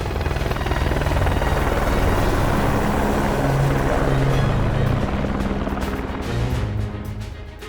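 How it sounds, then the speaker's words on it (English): A helicopter in the video game Ace Combat 5: The Unsung War, its rotors thrumming loudly and steadily nearby, the engine roar easing off toward the end. "As he boarded the helicopter, the president smiled"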